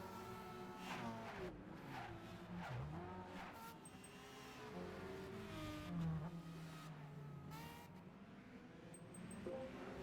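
Several race cars in Gran Turismo 5, among them a yellow Nissan leading and a Lamborghini, roar past with rising and falling engine notes, gear shifts and tire squeals, a steady loud stream of racing noise throughout.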